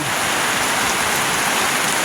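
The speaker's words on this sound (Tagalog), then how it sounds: "Yan guys, inabot kami ng ulan." Heavy rain pours steadily, a loud dense hiss of drops hitting surfaces.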